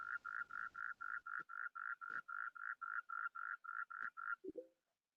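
Common toad calling in a forest setting in Karnataka: a clear series of about sixteen evenly spaced short pulsed notes in a steady rhythm, close and alone, ending with a brief lower croak.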